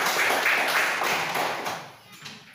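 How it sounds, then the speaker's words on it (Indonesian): Classroom students burst into loud group clapping during a lesson, a dense wash of claps that gradually fades out toward the end. "Tepuk tangan dulu untuk kita baca."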